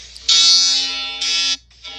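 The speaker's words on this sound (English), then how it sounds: "Alarm like this." A loud electronic alarm sounds in sustained buzzing blasts, two long tones and the start of a third separated by brief gaps, harsh and close with no voices.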